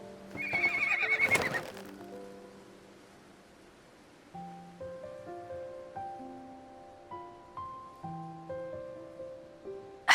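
A horse in the Love and Deepspace game gives a loud, bright whinny near the start, then gentle plucked music plays alone as soft footfalls fade out.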